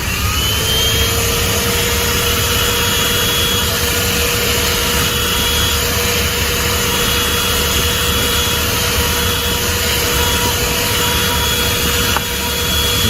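A ThisWorx 12V handheld car vacuum runs with its hose attachment fitted, giving a loud, steady motor whine and airy rush held close and constant throughout, with no talking.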